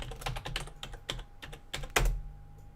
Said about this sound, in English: Typing is not very good today.